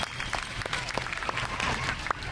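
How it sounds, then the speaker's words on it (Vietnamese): A studio audience at a Vietnamese family game show applauds for three competing teams, the clapping dense and steady, with individual sharp claps standing out. "Vỗ tay cho 3 đội nào."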